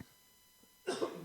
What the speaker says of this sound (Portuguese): ainda não passou essa tosse